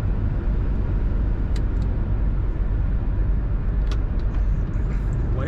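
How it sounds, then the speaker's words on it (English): A steady, loud fan roar fills the cabin of a 1976 Oldsmobile Cutlass Supreme Brougham as the blower motor runs continuously, with a few faint clicks over the even whoosh. "The blower motor works."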